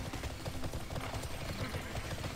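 Horse hooves clip-clopping in an online fantasy game: a rapid, steady clatter of hoofbeats, faint and continuous under a dense noisy background.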